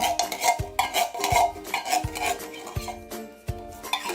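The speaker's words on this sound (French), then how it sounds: "Et on mélange bien de façon à ce que ce soit bien homogène." A utensil stirs and scrapes a coconut milk mixture in a pot for kaya pandan jam, producing close, rhythmic clinks and scrapes repeating about twice per second.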